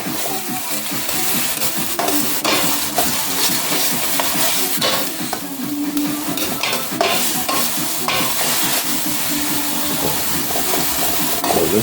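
Ground beef with fresh thyme sautéing in a pan, steady loud sizzling and frying with constant stirring scrapes, close up throughout.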